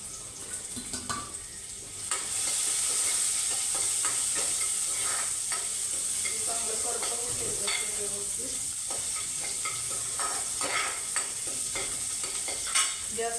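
Quiet clatter at first, then a sudden steady sizzle of cumin and mustard seeds frying in hot oil, with intermittent stirring scrapes and utensil clicks throughout.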